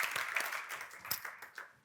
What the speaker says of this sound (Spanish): un aplauso a la 10